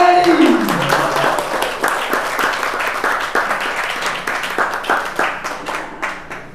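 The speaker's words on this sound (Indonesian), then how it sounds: "beri aplaus luar biasa buat guru kita Bapak Dr. Haji Dadan Kusmayadi" An audience applauds for a speaker, dense clapping that starts strong and slowly thins toward the end, with a voice briefly heard at the start.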